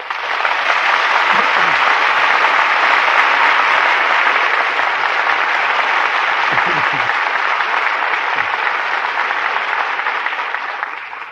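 A radio-show studio audience gives loud, sustained applause for Humphrey Bogart and Walter Huston, a thick unbroken wash of clapping lasting over ten seconds.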